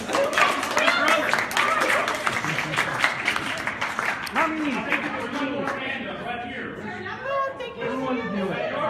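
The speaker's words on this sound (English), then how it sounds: "Let's give us a round of applause." Clapping from a Scout meeting audience starts loud and thins out, giving way to crowd chatter and people talking as the applause fades.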